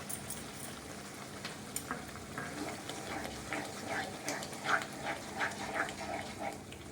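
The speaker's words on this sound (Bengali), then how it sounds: "টক দইটা দিয়ে ভালো করে আমি মিক্স করে দেবো" Tangy yogurt is stirred into a sizzling spice masala of oil and sugar in a pan for capsicum chicken, giving a low frying hiss with scattered spoon scrapes and soft wet clicks.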